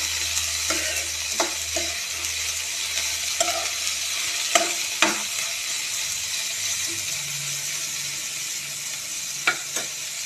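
Chopped cabbage being stirred in a pan, with soft sizzling and intermittent scraping and clicking of a utensil against the pan, close and fairly quiet.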